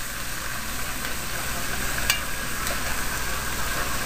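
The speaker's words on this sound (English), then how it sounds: "saute that around in the olive oil" Onions sauteing in olive oil for a Mexican stewed pork, a steady broadband sizzle and crackle with occasional stirring scrapes, close and continuous throughout.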